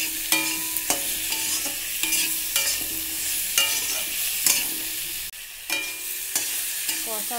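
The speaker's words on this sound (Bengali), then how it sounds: "নুন হলুদ দিয়ে একটু কষবো।" Rohu fish pieces frying in hot oil with salt and turmeric, a steady close sizzle with repeated metallic clinks and scrapes of a spatula stirring in the pan, no voices.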